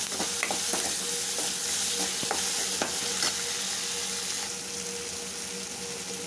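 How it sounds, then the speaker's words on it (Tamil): Onions and tomatoes sauté in a pan, giving a steady close sizzle with scattered crackles and faint scraping of a stirring utensil, dropping slightly quieter toward the end. "பாருங்கள், நல்லா வெங்காயம் தக்காளி எல்லாம் நல்லா வதங்கிடுச்சு."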